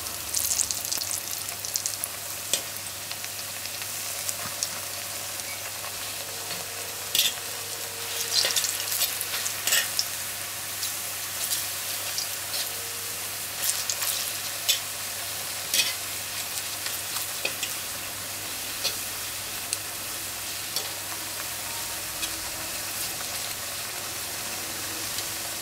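Slices of ripe plantain fry in hot oil in a pan, a continuous close sizzle with scattered pops and crackles that stays even throughout, with no talking.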